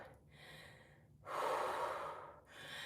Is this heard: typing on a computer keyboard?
no